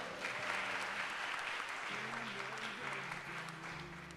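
A church congregation applauds at a youth ministry anniversary service, steady clapping over soft background music and low murmurs, sustained throughout.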